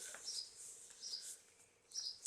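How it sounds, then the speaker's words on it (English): Faint, distant chirping from a single sparrow perched on a roof in Somerset, three short high bursts of song spaced across a quiet background. "that noise is a sparrow. A solitary sparrow sits on the roof and sings his heart out"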